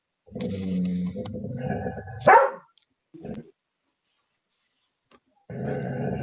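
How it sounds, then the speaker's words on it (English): Dogs vocalizing indoors: low growls and grunts, a sharp bark, a short grunt after a pause, then more growling at the end, close and alone. "Pardon my spoiled rotten dogs."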